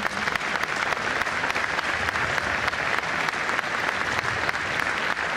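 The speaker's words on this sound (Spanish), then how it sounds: "un aplauso para todos ellos" A crowd breaks into warm, sustained applause, many hands clapping together at a steady level for several seconds.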